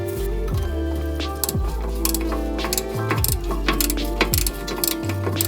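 Ratchet wrench clicking steadily while bolting a rear camber kit onto a DC2 Integra Type R, bursts of rapid pawl clicks with short pauses between, close and loud, no talking.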